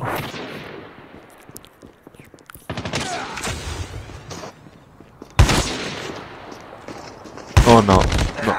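Gunfire in a Black Ops video game, with scattered sharp shots and bursts over quieter game ambience and louder cracks toward the end.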